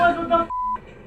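A ringing tone from an old landline phone in a video game: one steady electronic tone lasting about a quarter second, coming after a stretch of people talking, with more voices following.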